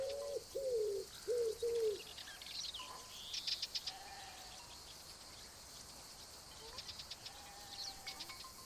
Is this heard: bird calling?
yes